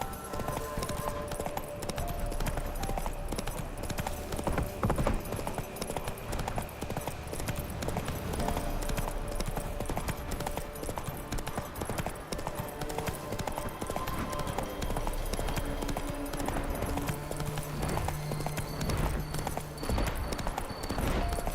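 Roach the horse from The Witcher 3 gallops in a steady, rapid clip-clop of hooves over a dense, continuous game soundscape, loud and unbroken the whole way through.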